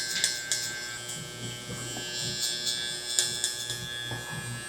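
Electric hair clippers fitted with a 2 guard and the lever open buzz steadily and close up as they cut curly hair during a blowout taper, with small clicks and shifts as the blade moves through the hair.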